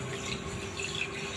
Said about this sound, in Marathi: जेवढी साखर घेतली आहे अगदी तेवढंच आपल्याला इथे 1 वाटी पाणी घालायचं आहे